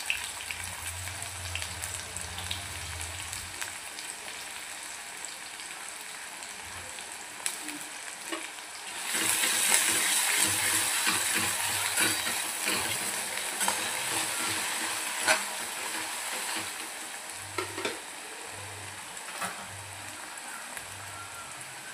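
Onion frying in a pan makes a close, continuous sizzle that swells sharply louder about halfway through and stays bright and dense, with faint low hum underneath and no voices.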